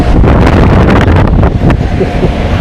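Powerful air blower or ventilation fan machine running up close at a Thai market selling motorcycle parts and farm tools, a loud, steady broadband roar with a gusty, wind-like rush throughout.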